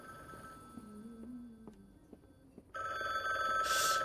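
Telephone ringing in the game The Bookwalker, a faint tonal ring under a low ambient background, then a louder, brighter ring bursting in near the end.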